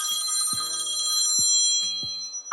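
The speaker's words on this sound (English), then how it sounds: "I'm going to be back after this phone call." A telephone rings with a steady, loud, high electronic tone held throughout, close by, with a few soft low knocks underneath and no speech.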